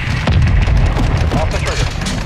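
A missile explosion in the video game Modern Warfare 2 booms low and heavy under a steady rumble of battle noise, with radio voices talking over it.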